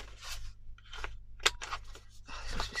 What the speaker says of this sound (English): That one I'll do with my scissors if I don't like it.